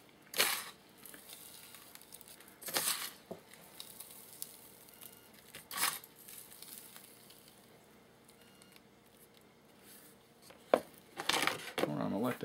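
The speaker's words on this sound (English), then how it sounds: "Sprinkling the grit and the rocks, which is basically just a sand ballast mix." Grit and sand ballast mix sprinkled onto a 20mm wargaming cemetery terrain model, heard as several soft, scattered rustling showers of fine particles, close and quiet, with brief gaps between.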